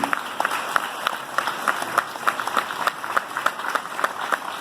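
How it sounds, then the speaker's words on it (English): Audience applause fills a legislative chamber, a steady rain of many hands clapping at moderate loudness with scattered sharper claps standing out, no voices on top. "You deserve applause too for what you do."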